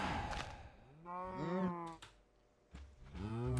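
A cow in a video game lets out a couple of drawn-out moos with a pause between, fairly quiet and close, with no voices over them.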